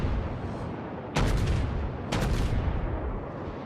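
Heavy battleship guns firing in World of Warships, a German tier 3 battleship: two loud, booming salvos about a second apart over a constant rumbling battle-ambience bed, with no speech.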